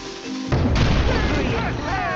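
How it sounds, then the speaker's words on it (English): An old cannon in a Skylanders video game fires at a wall, giving one sudden loud boom about half a second in, followed by a crashing burst and rumbling debris. "Taking down that wall seems like it might help. Maybe that old cannon will work."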